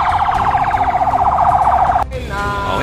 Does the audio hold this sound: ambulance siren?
yes